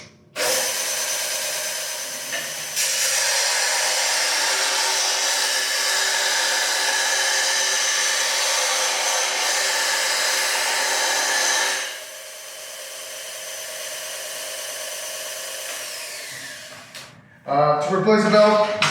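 A Palmgren 1-inch belt grinder runs at a steady high whine for several seconds, shifts to a lower, quieter hum as it winds down, and then a voice speaks.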